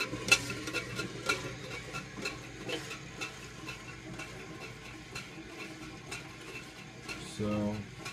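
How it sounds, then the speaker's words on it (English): Film developing reels knock and rattle inside a small water-filled tank turning on a DIY rotary processor, producing a quiet, continuous series of irregular clatters and sloshing taps, with a brief low mechanical hum near the end. "most of that noise is after the reels knocking around inside the tank"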